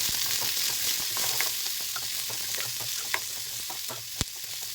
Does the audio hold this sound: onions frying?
yes